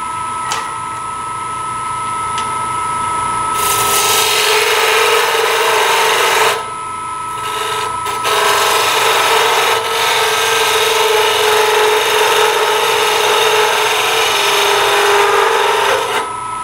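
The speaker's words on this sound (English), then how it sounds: "If you rest the calipers lightly against the wood, don't press, but lightly, they'll slide over when you get to the dimension" Calipers rest lightly against spinning wood on a lathe while furniture parts are turned, making a loud continuous rasping scrape that starts and stops in long stretches over a steady machine hum.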